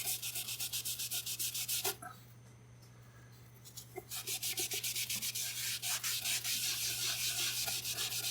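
Rapid back-and-forth rubbing of a cloth soaked in acetone over hardwood to lift gum, loud and close in rhythmic strokes, pausing for about two seconds before resuming steadily.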